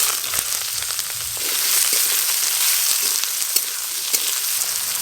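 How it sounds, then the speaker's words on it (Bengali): Potato and eggplant pieces fry in hot oil with a steady, dense sizzle and crackle, close and fairly loud, with a few sharper pops near the end; no talking. "তেল গরম হয়ে গেছে, আলু আর বেগুন ভালো করে প্রথমে ভাজবো।"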